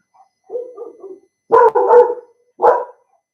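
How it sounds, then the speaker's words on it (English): A guard dog barks in three loud bursts, the first a softer, rambling run of yaps followed by two strong, close barks with short pauses between them. "Guard dog on duty."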